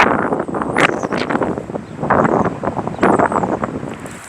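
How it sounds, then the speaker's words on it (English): Strong wind buffets outdoors on a city street, gusting in rough bursts of rushing noise and microphone rumble, loud and close, with no voices. "It's real windy out here."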